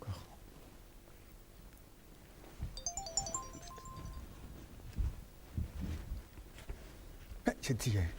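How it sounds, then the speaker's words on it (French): A mobile phone goes off briefly and faintly during a stage play, giving a short run of electronic tones amid quiet talk and a few thumps. "Le téléphone vibre encore."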